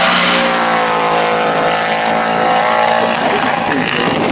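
A rally car on a stage of the East Riding Beverley & Motor Club Rally, engine droning loudly and steadily throughout with a sustained rising tone as it passes close by.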